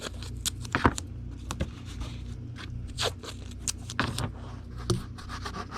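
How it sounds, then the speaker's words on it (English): Tape being pulled and pressed down to seal a Gemini package mailer for a model kit order, heard as close, scattered scratchy rips and rubbing strokes at a low level with no speech. "Tape this one on down."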